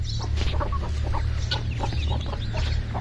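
Aseel chickens cluck repeatedly in a farmyard, a busy run of close, fairly loud calls over a low steady hum, with no talk.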